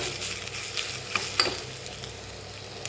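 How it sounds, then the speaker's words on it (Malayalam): Grated coconut frying in a tablespoon of coconut oil, a soft continuous sizzle close by with a couple of light stirring scrapes, no voices. "തേങ്ങ വറുക്കേണ്ടത് ഒരു ടേബിൾ സ്പൂൺ വെളിച്ചെണ്ണ ഒഴിച്ച് കൊടുക്കുന്നത്"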